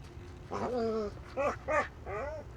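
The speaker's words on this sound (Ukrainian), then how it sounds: "може вона і гавкає, але нападати не збирається" A dog barks in S.T.A.L.K.E.R.: Shadow of Chernobyl, on the Garbage level: four loud, close, tonal barks or yelps in an irregular rhythm over a low background rumble.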